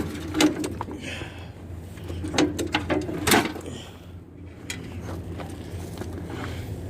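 A Toro Wheel Horse 14 lawn tractor's starter cranking the engine without it firing, mechanical whirring and clicking in uneven bursts, fairly quiet and close.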